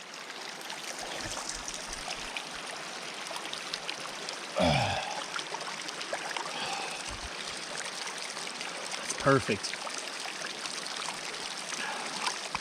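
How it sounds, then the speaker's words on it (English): Natural hot spring water flows steadily into a river, a continuous close broadband stream rush with a couple of brief knocks, while a voice speaks briefly and softly. "You got that mixture of the river water and just nice hot water right here."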